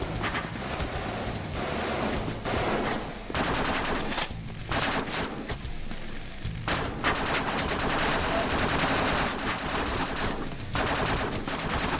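Turret gunfire in a video game rattles in long, loud automatic bursts separated by brief gaps, near and dominant throughout, with no talking over it.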